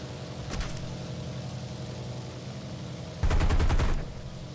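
Fifty-caliber machine guns on a Beaufort aircraft in War Thunder fire in two bursts, a short one early and a louder sustained rattle near the end, over a steady droning aircraft engine.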